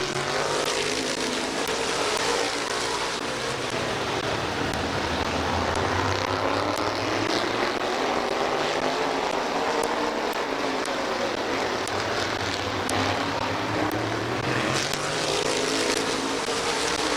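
Race cars roar around the oval at Midvale Speedway in a steady, dense wash of engine noise, several cars passing close together with rising and falling pitch and no break in the sound.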